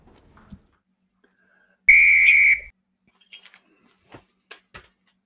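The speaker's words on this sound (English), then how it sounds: "I gotta blow the whistle." A single sharp whistle blast lasting under a second rings out loud and shrill, followed by scattered faint clicks and knocks.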